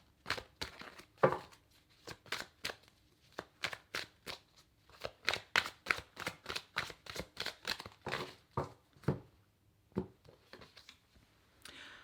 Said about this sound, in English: I've been shuffling these cards.